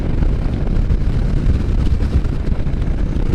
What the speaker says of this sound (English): It is amazing how stout this wind is.